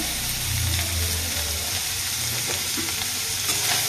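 An onion fritter mixture seasoned with chilli and cumin powder fries steadily in hot oil, with a constant dense sizzle and occasional scraping stir strokes close by, no voices present.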